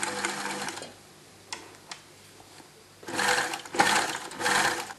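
Sewing machine stitching along a seam in a dress or top, in two close motor bursts: a short run at the start, then a longer loud stretch near the end, with quiet clicks between.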